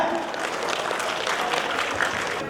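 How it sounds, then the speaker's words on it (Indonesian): Applause for the committee chair at a May Day event in Makassar: a crowd claps steadily and fairly loudly throughout, a dense continuous patter with no pauses and no talking over it. "Boleh kita berikan aplaus yang meriah untuk ketua panitia."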